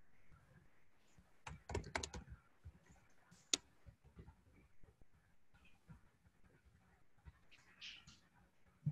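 Quiet keystrokes tapping on a computer keyboard during a PowerCLI lab session, with a quick burst of clustered clicks, a sharp single tap, then scattered lighter keypresses.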